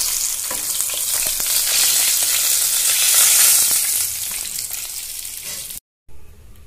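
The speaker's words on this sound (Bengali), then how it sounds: "বাকি মাছগুলো আমি ভেজে নিচ্ছি।" Bata fish frying in hot oil in a kitchen pan, giving a loud, steady crackling sizzle that continues without a break until it cuts out just before the end.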